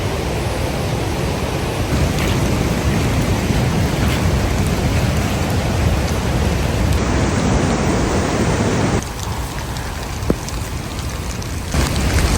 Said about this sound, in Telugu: వర్షంలో జలపాతం.